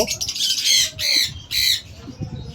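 Three harsh, loud squawks from pet budgerigars, including opaline and lutino birds, in quick succession, close by, with faint background noise between them.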